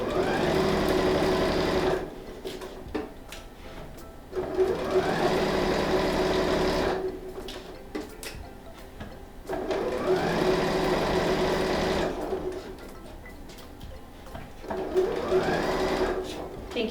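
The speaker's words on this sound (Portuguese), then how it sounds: "E vou passar uma costura para prender esse viés." Sewing machine stitching bias binding on a flat patchwork zip pouch, running in several steady whirring bursts of a few seconds each with pauses between, while someone talks over it.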